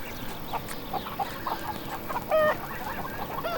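Birds at a field in Farm Manager 2018 clucking and chirping like chickens, a scattered string of short calls over a soft ambient hum, with one louder call cutting through midway.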